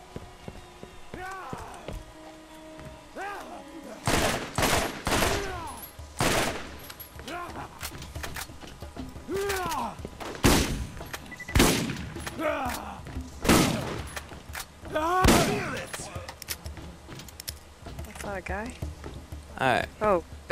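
Scattered bursts of gunfire hitting at the player in the Borderlands video game, with sharp shots and short volleys spread throughout, heard under frequent talking.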